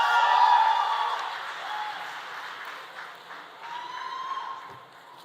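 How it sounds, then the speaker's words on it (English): Audience applause at a graduation ceremony, a broad wash of clapping from a large crowd that starts loud and slowly fades over several seconds. "see the applause that he receives from the same crowd"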